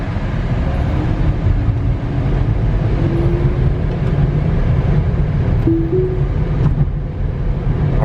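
A Tesla Model 3/Y driving, heard from inside the cabin as a steady low road and motor hum with faint rattles, no voices.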